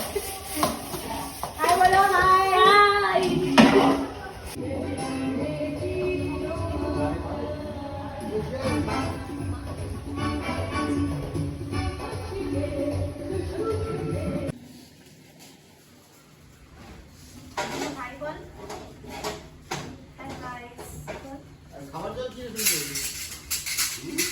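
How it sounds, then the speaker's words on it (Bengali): Dishes, pots and pans are scrubbed and rinsed together with students at an academy picnic, with steady clattering and clinking of metal utensils and cookware under lively overlapping talk, briefly quieter midway before the clanking resumes. "স্টুডেন্টদের সবার সাথে বাসন মাজতে হচ্ছে"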